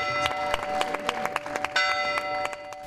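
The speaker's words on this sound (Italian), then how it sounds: "Sono tornate a suonare a Pianella le campane della chiesa di San Domenico" Church bells of San Domenico in Pianella, Italy, ring in a dense, rapid peal, bright overlapping strikes sounding close and loud with no voices.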